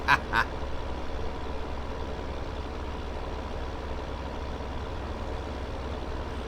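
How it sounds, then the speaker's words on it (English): A tractor in Farming Simulator 2017 drones with a steady, noisy engine rumble that holds level throughout, opened by two short honking or beeping blips. "Man, this tractor's noisy."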